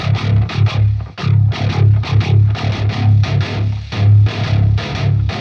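Thick distorted 9-string virtual electric guitar (Shreddage 3 Argent) chugging on the open lowest string, loud droning notes with occasional short gaps and rhythmic re-attacks.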